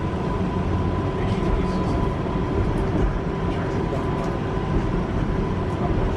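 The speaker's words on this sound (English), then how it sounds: "this is my train coming in" A train pulls into the platform at Bedford station on the West Coast Main Line, giving a steady, loud rumble of wheels and engine with a faint hum running through it, close by and continuous.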